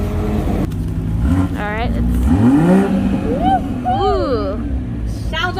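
Car engine revving loudly at a car meet in Griffith Park, with rising and falling throttle blips close by, mixed with people talking and exclaiming over it.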